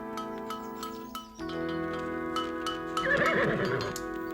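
A gentle old horse neighs and its hooves clip-clop. A whinny rings out clearly near the end over steady background tones, with a light tick of hooves.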